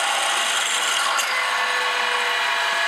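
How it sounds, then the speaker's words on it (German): An 8 mm drill bit bores straight through wood during a corner bench seat repair, making a continuous grinding, rasping whir at a steady loud level throughout. "Dann bohren wir direkt mit dem 8er Bohrer durch."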